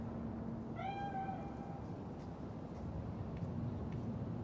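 A cat in the Cyberpunk 2077 video game lets out a single drawn-out meow, clear and mid-distance, over a low background hum of ambient game sound.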